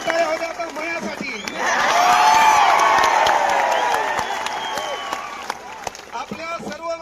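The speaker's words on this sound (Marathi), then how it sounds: "आणि एकदा जोरदार टाळ्या होत्या आता मायासाठी" Students at a rally in Chhatrapati Sambhajinagar break into applause and cheers that swell to a loud peak mid-way, then fade back as voices and scattered sounds continue.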